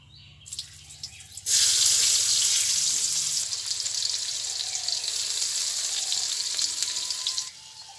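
Onion dropped into hot oil in a pan for a steamed egg curry bursts into a loud, close sizzle that holds steady for several seconds before cutting off near the end.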